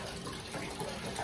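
Tap water runs over garlic being rinsed at a kitchen sink, producing a brief, steady, broadband splashing hiss at moderate level with no speech.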